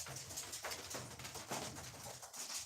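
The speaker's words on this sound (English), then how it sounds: "listen to these fucking doves" Doves coo softly in the background, faint repeated low calls drifting over quiet room ambience, distant rather than close.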